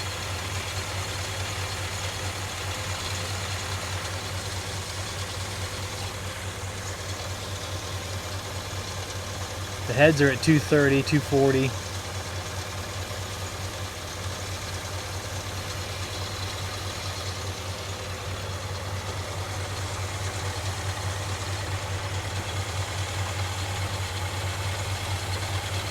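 A 1969 Ford F100 V8 idling steadily after its first start in years, a continuous low rumble throughout with someone speaking briefly over it partway through.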